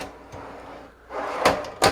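A wooden drawer in a motorhome kitchen slides and bumps shut, two short knocking thuds near the end after a soft scraping slide, close by and without talk.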